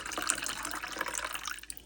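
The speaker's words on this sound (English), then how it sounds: "Let's pour. Hopefully I didn't do so much that doesn't fit in the glass." A homemade drink made with simple syrup being poured into a glass, a continuous close trickle and splash of liquid with a brief pause near the end.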